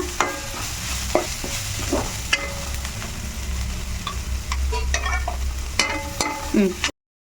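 Ginger garlic paste frying in a pan, a loud continuous sizzle with frequent clatters and scrapes of a spoon stirring, close up.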